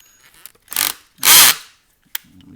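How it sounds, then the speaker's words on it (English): A power drill used while installing a door stop gives two short, loud whirring bursts close by, separated by brief quiet, then a small click near the end. "luckily I've been using the drill."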